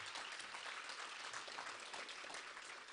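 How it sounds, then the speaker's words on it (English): Sustained applause from a graduation audience at a 2020 IB graduation ceremony for Magnolia ISD, steady dense clapping filling the hall for several seconds with no voices over it. "Can we give those guys one more round of applause?"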